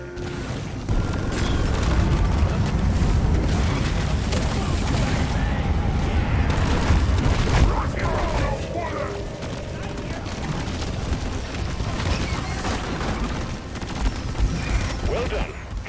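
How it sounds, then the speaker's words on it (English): In the video game Deep Rock Galactic, a cargo rocket launches with a deep, sustained rumbling roar and booming blasts that stay loud and dense before easing slightly, with game sounds rattling around it. "Cargo rocket is returning to orbit."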